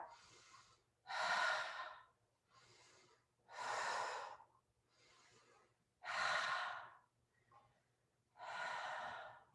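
Steady rhythmic breathing during seated chair pilates pulls, alternating softer inhales with louder, longer breathy exhales, four full cycles close to the microphone with no talking.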